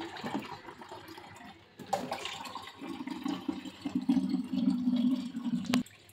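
Water pours and splashes into a container, quiet and uneven at first, then a steadier fuller gush after a short pause, ending abruptly.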